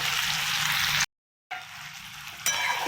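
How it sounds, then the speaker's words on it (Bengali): Food frying in a pan for a chhana curry, with tomato and salt, gives a steady loud sizzle that cuts out briefly to silence and then resumes, no voices. "আমি আর একটু ভেজে নেব।"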